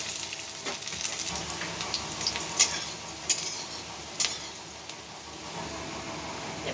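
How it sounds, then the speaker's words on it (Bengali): Chopped carrots and capsicum fry in hot oil in a wok, a steady close sizzle with stirring scrapes and a few sharp utensil clinks against the pan. "এবার কড়াইতে তেল দিয়ে নিয়েছি, তেলটা গরম হবে, তারপরে এতে গাজর আর ক্যাপসিকাম কুচি দিয়ে ভেজে নেব"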